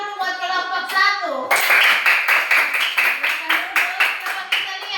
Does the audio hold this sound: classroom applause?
yes